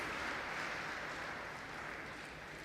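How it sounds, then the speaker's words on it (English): Tennis spectators at a women's tournament in Shrewsbury applaud softly, a quiet, even patter of clapping that stays faint and steady, gently tapering off. "Round of applause as well."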